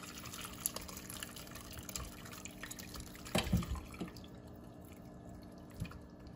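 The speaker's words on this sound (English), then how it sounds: "I'm just pouring that right into the strainer." Bone broth is poured from a slow cooker crock into a strainer. Soft liquid trickles and drips run throughout, with a brief louder splash midway, all faint and close.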